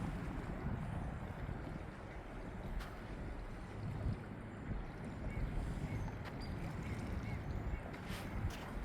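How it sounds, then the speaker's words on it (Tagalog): Wind gusts steadily at a waterside fishing spot in Selkirk on a cloudy day, a dense, continuous roar of microphone buffeting with no voices. "Mahangin at saka cloudy."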